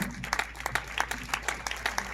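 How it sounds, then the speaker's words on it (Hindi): Audience applause at a Hindi evening of music from a foundation's concert of evergreen songs, given in honor of the women who founded the organization: a brisk, fairly faint patter of clapping with irregular sharper claps throughout. "मैं सबसे पहले चाहूंगा कि आपकी जोरदार तालियां इन तमाम नारियों के लिए हो जाए"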